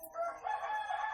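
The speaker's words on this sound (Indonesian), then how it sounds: "suara ayam juga udah mulai suara" A rooster crows in a single sustained call lasting over a second, loud and clear against a quiet backdrop with no voices.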